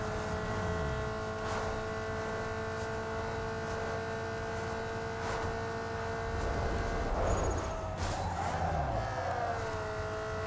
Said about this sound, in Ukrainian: Ого, як двигун гуде.